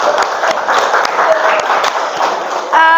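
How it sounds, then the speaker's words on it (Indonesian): Classroom students applauding together in a steady, dense wash of clapping that fills the room, with a voice murmuring faintly underneath before a brief tone near the end. "tepuk tangan dulu untuk Andre."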